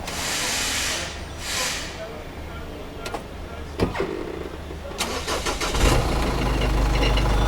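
Diesel engine of a second-hand London taxi cab cranking and catching, with short starter bursts before it fires into a loud, rumbling idle close by.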